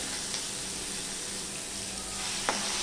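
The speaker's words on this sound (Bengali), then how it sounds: "দেখো, এখানে ফোড়নটা হয়ে গেলে আমি প্রথমে রসুনটা দিয়ে দিলাম।" Crushed garlic sizzles steadily in hot oil after a spice tempering for a Bengali potato curry, a constant close frying hiss with a brief stir or clink near the end and no talking.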